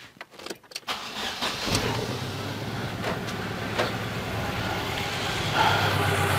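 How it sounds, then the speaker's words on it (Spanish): A Fiat Palio with an ignition misfire starts: a few clicks, a brief crank, then the engine catches and settles into a steady idle close by. "Vamos a prender el carro"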